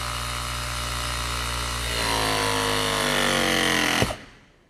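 A RIDGID RE6 battery-powered crimping tool presses a terminal with six tons of force, a close, whining motor that climbs steadily in pitch before a sharp click and a quick wind-down to silence.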